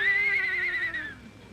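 A horse lets out a single drawn-out whinny that wavers and then fades, close and clear over a quiet background.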